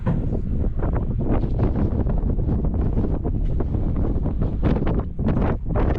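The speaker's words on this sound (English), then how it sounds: "The wind is unbelievable, so I think the hat is coming off." Strong wind buffeting the microphone at the top of Peel Tower, a constant loud roaring rumble with gusty surges and no voices heard.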